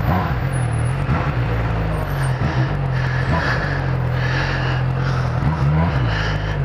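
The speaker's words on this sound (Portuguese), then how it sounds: "Vamos, caminhão do lixo." A garbage truck drives by on a São Paulo street, its heavy diesel engine giving a loud, steady low rumble that swells and fades slightly with traffic noise around it.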